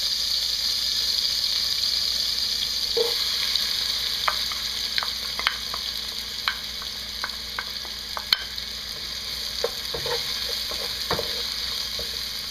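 Garlic and onions sizzle steadily in hot cooking oil, a constant frying hiss broken by scattered stirring clicks and scrapes.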